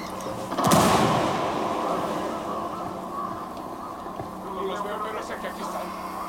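A frag grenade goes off in Ghost Recon Wildlands as one sharp, loud blast with a rumbling tail, followed by a steady bed of game ambience.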